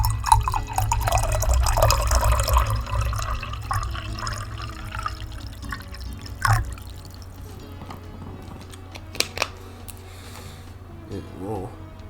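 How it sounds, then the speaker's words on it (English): Water poured in a video game side mission, a steady liquid stream that runs loud for several seconds and then tapers into scattered drips and splashes, with no other sounds over it. "who wants some free water pouring ASMR?"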